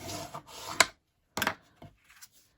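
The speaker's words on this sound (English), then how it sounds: "We're going to fold and burnish that." Scored cardstock is folded and burnished by hand, giving a few short, close paper rasps and rubbing strokes with brief pauses between them, with no talk.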